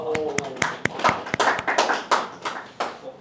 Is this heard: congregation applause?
yes